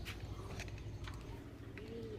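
Indian Teddy and Rajasthani pigeons coo softly in a loft, a couple of low drawn-out coos over a busy background with scattered clicks and rustles.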